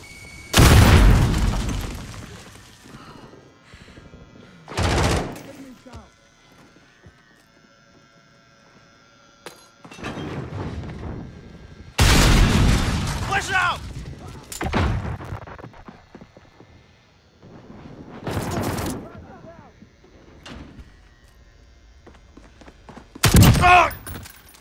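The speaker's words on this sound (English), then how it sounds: "Throw a grenade!" In Call of Duty Modern Warfare 2019, a Hackney Yard domination match, grenade explosions and bursts of gunfire crack out in sharp, loud, separate blasts spaced through the stretch, with quieter gaps and some brief talk between them.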